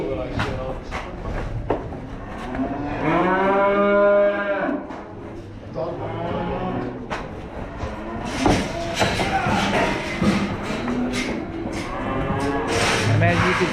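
Cattle and calves moo repeatedly at a feeder auction, with long, drawn-out calls near and far. People talk, and pen gates and metal clank.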